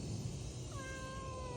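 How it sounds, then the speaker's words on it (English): A cat gives a single drawn-out meow, a clear falling tone close by in a quiet garage while a 1999 Mercedes C230K has its MAF sensor replaced. "the cat."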